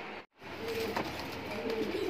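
Allahabadi kale par pigeons coo softly in a loft, low murmuring calls over a steady, hushed background after a brief cut near the start.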